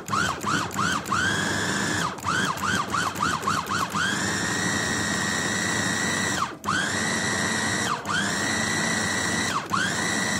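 A food chopper grinds beef and chicken for meatballs in a loud, close, high motor whine that starts and stops in quick bursts at first, then runs in long steady stretches broken by brief dips as the load shifts.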